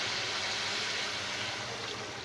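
Water is poured from a glass into a karahi pot of mutton being cooked, a continuous close splashing stream with no talk.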